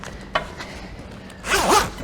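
A bimini canvas zipper on a 2021 Centurion Fi23 boat is pulled in one quick, close zip after a brief tug, loud and without talk.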